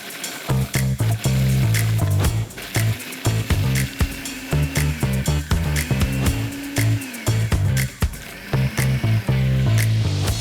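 Food processor pulsing digestive biscuits, with a loud, close motor whirring in repeated short bursts as the crumbs rattle and churn, broken by brief stops between pulses.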